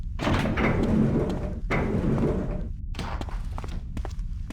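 Footsteps and a door in the GameCube game Die Hard: Vendetta: a run of close, even steps followed by heavy door thuds and a sliding clunk, with no talking.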